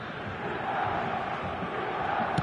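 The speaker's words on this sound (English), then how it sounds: "it's applause all round us here" A stadium crowd at a football match applauds, a broad continuous wash of clapping and crowd noise heard at a distance, steady and moderately loud throughout.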